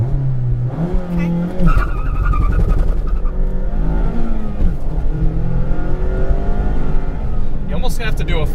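Mazda Miata accelerating hard from a clutch drop, with a loud engine rising in pitch and some tire squeal, heard under ongoing talk throughout.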